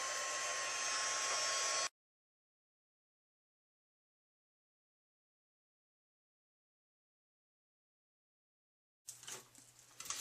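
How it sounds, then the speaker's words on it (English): A heat embossing tool blows hot air for a short, loud whooshing burst over silver embossing powder for a craft tag, then cuts off into silence before a brief return of noise. "so let's grab the heat tool"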